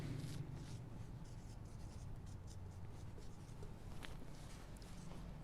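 Chalk or marker scratching across a board while a differential equation is worked out in a lecture, continuous soft scraping strokes at low level with room noise.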